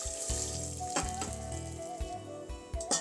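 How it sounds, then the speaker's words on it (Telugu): Peanuts fry in hot oil in a pan on a home kitchen stove, a soft continuous sizzle broken by brief clinks and scrapes of stirring, with a short louder burst near the end. "ఇందులో కొద్దిగా పల్లీలు వేసి బాగా ఫ్రై చేసుకోవాలి"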